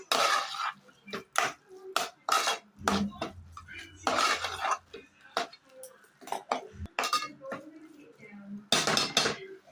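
Rock salt and masala mixed for squid in a bowl, heard as repeated clattering scrapes and clinks of a utensil against the dish in uneven bursts, near and fairly loud.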